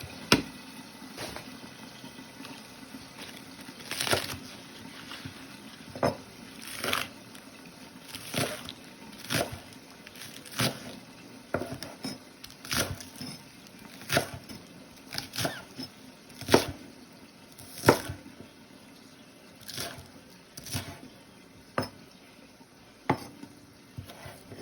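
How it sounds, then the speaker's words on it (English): A knife chops green onions on a cutting board with steady, fairly quiet taps that come in an uneven rhythm roughly every second, and faint kitchen background noise sits beneath them. "Let's chop up these green onions."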